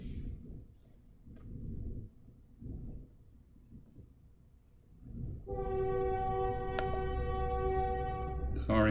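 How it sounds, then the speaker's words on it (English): Low rumble of a train rolling by, then a loud sustained horn blares over the rumble for several seconds, with muffled voices early on. "Sorry about the train."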